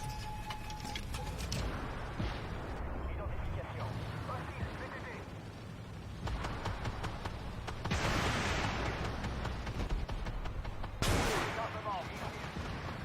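A T-62M tank fires an ATGM from its main gun in a combat video game, the sharp launch blasts breaking through a dense, continuous wash of battle noise and engine rumble with several loud bursts, and a voice talking over the action.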